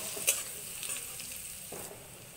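Garlic paste frying in a pan, a brief soft sizzle with a small clink at the start and a faint scrape near the end, quiet and close, no voices.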